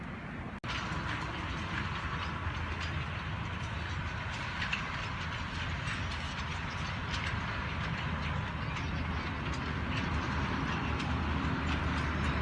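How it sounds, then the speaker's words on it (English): A sugarcane train, a double-header, rumbles steadily past at close range through a town, a continuous heavy roll of wagons with rattling clatter throughout, no voices. "Traffic gives way to the train in the middle of the town."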